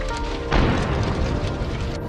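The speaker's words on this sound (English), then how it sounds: "We see a massive explosion." An armored personnel carrier hit by a drone erupts in a sudden heavy boom, followed by a sustained loud roaring rumble that continues for over a second with no talk.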